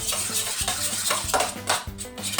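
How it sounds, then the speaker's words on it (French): A utensil stirs barbecue sauce for meat in a bowl or pot, producing rhythmic scraping and clinking strokes at a steady pace, close and fairly loud, with no talking. "Je vais déjà mélanger un peu ça pour que ça donne un truc un peu onctueux"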